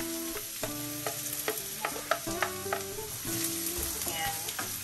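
Garlic sizzling in a pan as the first step of a gochujang-style soup, a continuous moderate frying crackle with repeated light clinks and taps of a utensil throughout.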